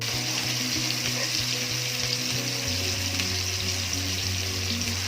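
Spices with a spoonful of ginger paste frying in a pan, a steady close hiss and sizzle running throughout with a low humming tone underneath, no talking.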